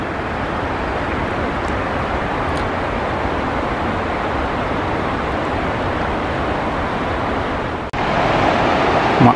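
A mountain waterfall near Pelvoux in the Ailefroide valley roars as a steady, loud broadband rush that fills the whole clip, with a brief dip and shift near the end.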